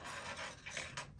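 A wrench tightens the mounting screws on an Acoustic Signature TA-1000 NEO tonearm, giving a brief, faint run of clicky, ratcheting metal movement up close.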